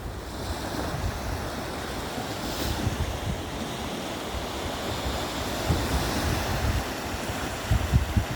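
Waves rolling onto a Baltic Sea shore, a steady, dense wash of surf with wind buffeting the microphone throughout and slightly stronger surges near the end.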